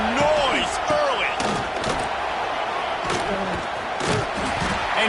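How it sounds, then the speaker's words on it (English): College football stadium crowd in a video game roars in a dense, continuous wash of cheering and shouting, loud and unbroken throughout. "This crowd bringing the energy and noise early."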